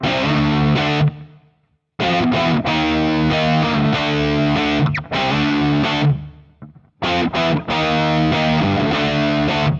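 Loud distorted electric guitar playing sustained chords with a spacious, washing hall reverb, broken by a couple of brief silent gaps.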